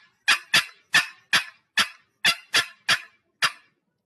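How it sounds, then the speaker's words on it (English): A fast, uneven string of nine sharp turkey cutting notes struck on a box call, loud and close, bunched irregularly with brief pauses, no voices. "And then cutting would sound like this."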